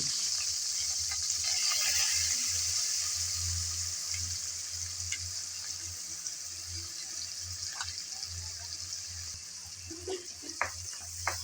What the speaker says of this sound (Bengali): এখন এই চিংড়ি ভাজার তেলে দিয়ে দেব পেঁয়াজ কুচি